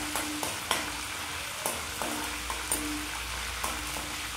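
Gongura and coriander frying in a pan: a steady close sizzle runs under regular spatula strokes scraping the pan roughly every half second, with no voices.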